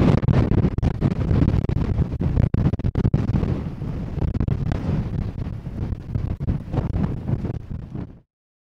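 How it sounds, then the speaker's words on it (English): Strong gusty wind buffeting the microphone at a mountain lake campsite in the Southern Wind River Range, loud rumbling and roaring almost throughout with brief dips, before cutting off abruptly. "Right now the wind is pretty tame, but it's been blowing me all over."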